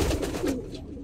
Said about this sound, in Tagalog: fast recovery naman ng ating mga ibon